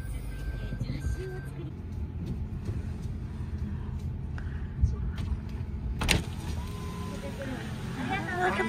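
A car carries passengers with luggage to a station in Kinosaki Onsen, its steady low road rumble running throughout, broken by a couple of clunks, with voices talking inside the cabin.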